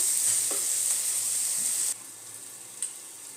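Tomatoes fry with onions in a pan for tadka dal, a continuous bright sizzle that drops noticeably quieter partway through, with a few faint clinks of stirring.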